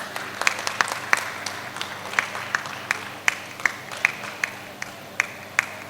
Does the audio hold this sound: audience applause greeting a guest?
yes